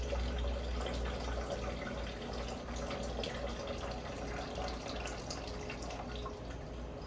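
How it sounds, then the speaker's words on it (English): Excess gold-refining solution is poured off into a pail, a continuous trickling, dripping liquid pour heard close and fairly quiet for several seconds without talk. "I'm gonna go ahead and dump off this excess solution to my pail."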